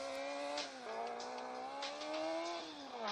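Race cars in the blocky video game Block City Wars drive with a steady, continuous engine drone whose pitch rises and dips as they accelerate and shift, loud and close throughout.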